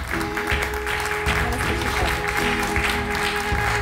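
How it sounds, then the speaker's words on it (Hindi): Studio audience applause on a Hindi television talk show, a steady dense patter of many hands clapping throughout at close range, loud and continuous with no talk over it. "तो जोरदार तालियों से स्वागत कीजिए"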